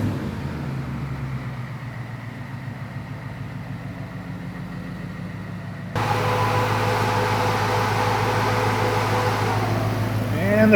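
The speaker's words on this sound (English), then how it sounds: "And the fans came on." Radiator cooling fans on an F100 truck with a Coyote V8 swap switch on partway through, adding a loud steady whoosh over the close idling engine and staying on to the end.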